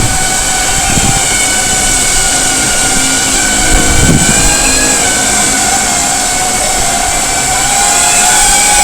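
A Speedybee Bee35 drone hovers in GPS position hold, its steady high-pitched motor and propeller whine holding a constant tone, close and continuous, with a couple of brief low thumps.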